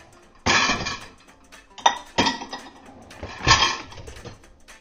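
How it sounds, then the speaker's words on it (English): Dishes being loaded into a home dishwasher, heard as several bursts of clattering and clinking crockery with short pauses between them, fairly close and with no talk over them. "you put them in the dishwasher."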